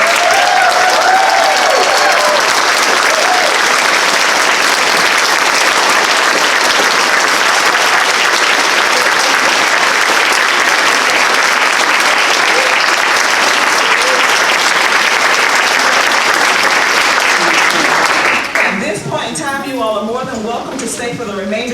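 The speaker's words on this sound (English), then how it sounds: "give our 2018 Junior Scholars a thunderous round of applause" A dense, thunderous round of applause for 2018 Junior Scholars at a board meeting, with family and friends standing; loud continuous clapping that fades out near the end into quieter room sounds.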